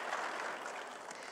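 Church congregation applauding during a sermon, a steady broadband wash of many hands clapping at once, fairly faint and even throughout the short stretch.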